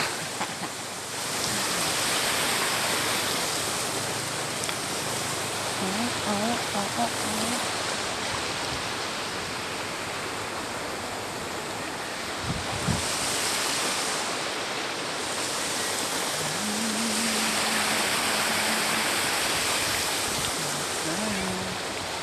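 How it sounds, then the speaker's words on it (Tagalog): The San Antonio river flows in a steady, close rush of broadband water noise that holds an even level throughout, with brief faint tonal sounds and a short knock near the middle. "Nasa ilog kami. Ilog ng San Antonio."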